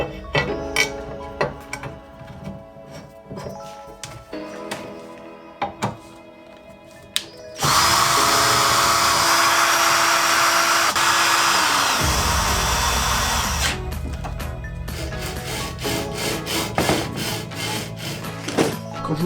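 Power drill boring holes through a wooden CNC machine frame, with an intermittent whine and grinding in bursts, then a loud sustained drilling run of several seconds, close up with no voices.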